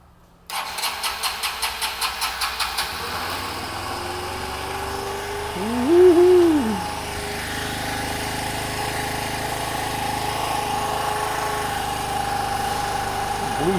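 A rebuilt Honda Elite 150 scooter engine starts with a quick run of rhythmic cranking pulses, then settles into a steady close idle with one brief rev partway through.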